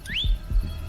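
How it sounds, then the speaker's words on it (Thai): A single rising whistle in The Walking Dead video game, a short upward-sweeping tone set against low, thudding game sounds. "เฮ้ย มีผิวปาก"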